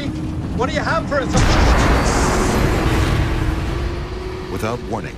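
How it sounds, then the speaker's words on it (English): A loud, sustained roaring blast as an explosion tears apart the fuselage of TWA Flight 800 airliner, swelling and rumbling for several seconds, with brief radio-like voices before and after. "Without warning, a powerful explosion tears the fuselage apart."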